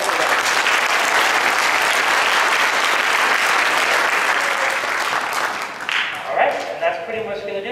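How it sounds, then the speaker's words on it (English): A winter band concert audience claps for the performers in a sustained, dense round of applause that gradually thins and fades near the end as a few voices and instrument sounds come through. "So a quick round of applause for them."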